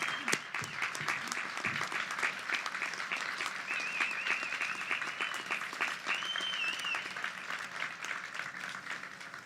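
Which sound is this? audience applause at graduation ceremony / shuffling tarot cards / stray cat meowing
audience applause at graduation ceremony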